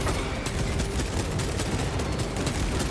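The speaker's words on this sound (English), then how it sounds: "Do you really not care about the guys over in this direction who are firing at you?" Enemy gunfire in Warhammer 40K: Space Marine II, a dense, steady barrage of rapid shots that fills the scene without a break, loud and continuous with no voices.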